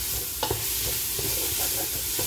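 Coriander sautéing with garlic and onion in a pan gives a steady close sizzle, broken by a few soft scraping stirs, with no voices.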